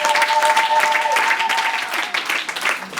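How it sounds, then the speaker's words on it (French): An audience applauds for children at a foundation event, a loud, dense burst of clapping that tapers off unevenly, with a voice speaking over it. "Applaudissez pour tous ces enfants."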